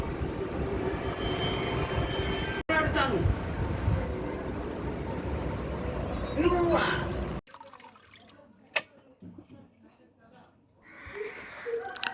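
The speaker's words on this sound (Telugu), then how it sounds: "చికెన్ శుభ్రంగా తెల్లగా వచ్చేవరకు 3-4 సార్లు నీట్గా కడగాలి ఫ్రెండ్స్." Raw chicken being washed in water for a Telugu-style chicken curry, with splashing and running water through the first part, then quieter drips and handling sounds near the end.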